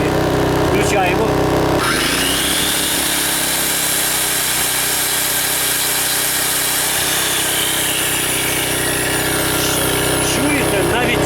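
A GTM DK3500i inverter generator roars loudly and continuously after a heavy load switches on, its engine note shifting as it strains, with brief clicks before the load kicks in.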